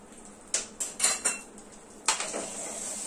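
Spices with turmeric being stirred in a pan for a milk paneer masala, heard as a handful of sharp metallic scrapes and clinks of a utensil against the pan, close and fairly clear, with quiet gaps between them.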